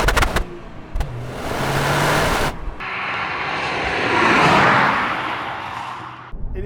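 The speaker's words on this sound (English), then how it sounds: "you've just got this fantastic induction noise, and you've got these whooshes, and when you let off the throttle, you've got these whistles from the wastegate" A Toyota GR Yaris rally-bred road car's engine gives a loud, sustained induction roar and whoosh that surges and swells across the run, breaking off sharply midway before picking up again.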